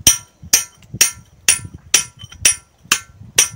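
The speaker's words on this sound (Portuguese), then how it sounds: "Furar aqui umas 4 ou 5 caixas." Hammer blows striking hard rock while drilling holes in a rock cut, about eight sharp, evenly spaced metallic impacts roughly every half second, loud and close with no talking.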